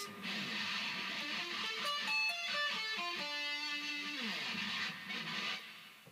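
Rapid sweep-picked arpeggiated guitar notes sweep up and down in quick, even runs, a clean picked tone ringing clearly for several seconds before fading.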